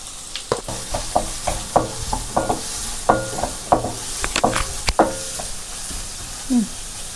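Finely chopped onions sizzle in a hot pan while a spoon stirs and scrapes them in repeated short strokes over a constant frying hiss. The stirring fades near the end.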